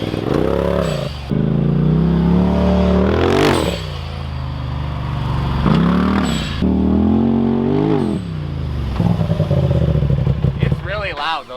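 A Polaris RZR Turbo S accelerates and lets off several times while driving, with whooshing blow-off bursts between revs, loud and close, and no talking.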